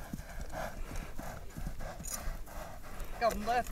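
A spirited racing horse at a Kyrgyz livestock market clip-clops in a quick, steady rhythm at moderate distance, with someone talking over the hoofbeats.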